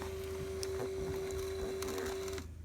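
A car's power seat motor runs with a steady, faint electric hum for about two seconds, then cuts off abruptly, heard close in a quiet setting.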